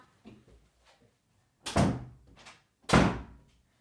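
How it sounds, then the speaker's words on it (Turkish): A door is pulled shut with two solid thuds, one after the other, loud and close in an otherwise quiet room, with faint voice sounds just before. "Kapa kapıyı."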